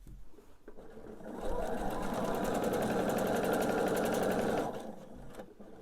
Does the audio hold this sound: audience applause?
no